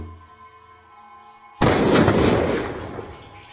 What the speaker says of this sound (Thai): เสียงปืนในมือของทิดเดือก็ระเบิดเสียงขึ้น